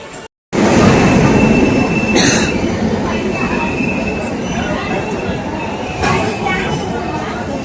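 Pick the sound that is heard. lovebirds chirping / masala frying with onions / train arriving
train arriving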